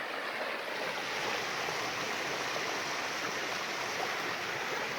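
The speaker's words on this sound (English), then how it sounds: "There's another waterfall, little one down there" A small waterfall beside the Appalachian Trail makes a soft, steady hiss of falling water, faint and unbroken, with nobody speaking.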